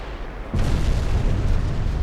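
A battleship's secondary guns fire in Ultimate Admiral Dreadnoughts with a sudden heavy boom, followed by a sustained rumbling roar of naval gunfire with no talking.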